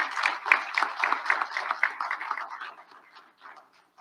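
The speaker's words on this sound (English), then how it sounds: "how about a round of applause for these candidates?" Audience at an Oxnard City Council candidate forum applauding, a modest room of people clapping with distinct individual claps, strongest at first and gradually thinning and fading out over a few seconds.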